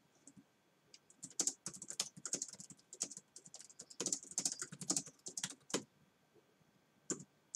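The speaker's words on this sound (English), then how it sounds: "So I've just got to type something here." Computer keyboard typing in quick irregular bursts of clicking keys, close and fairly quiet, with short pauses between runs and no talk.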